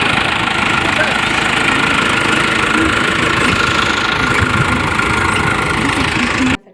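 A tractor engine runs loud and close in a field, with a steady rough rumble and knocking throughout that cuts off abruptly at the end.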